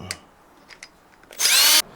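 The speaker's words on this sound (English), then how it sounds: "I just put a little drill attachment to save some time" A power drill fitted with an Allen bit backs a screw out of a string trimmer handle, a single loud whirring burst of about half a second following a few faint clicks of handling.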